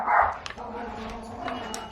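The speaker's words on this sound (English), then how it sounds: "There's my dogs. They're barking" Dogs barking indoors, one sharp close bark at the start followed by fainter scattered yips and barks against quiet room noise.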